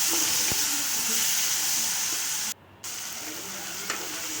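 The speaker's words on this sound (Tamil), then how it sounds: "இப்போவே நான் குழம்புக்கு தேவையான உப்பை சேர்த்து வதக்கிக்கலாம்" Curry masala sautés with salt in a pan for a broad bean and dried fish curry, a continuous hissing sizzle broken by a brief quiet gap and faint stirring knocks.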